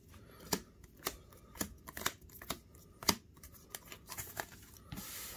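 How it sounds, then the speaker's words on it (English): Pokemon trading cards from a Darkness Ablaze booster box being separated by hand, a close run of light papery flicks and snaps at an uneven rhythm, fairly quiet with no talk. "let's separate the cards"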